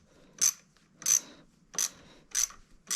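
A ratchet wrench tightens a bolt on a Honda CRF150F pit bike engine being built up: four evenly spaced bursts of close, bright clicking, each about a quarter-second long, separated by short quiet gaps.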